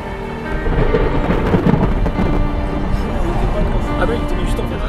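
Deep thunder from a strengthening storm in Tornado Alley rolls on and on through steady heavy rain, loud and close, with no break in the storm's roar.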